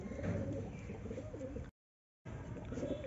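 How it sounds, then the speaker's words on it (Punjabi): Pigeon cooing, low soft repeated coos close by at a rooftop pigeon loft on a cloudy day, with a brief silent gap in the middle. "ਕਬੂਤਰ ਗਾਈ"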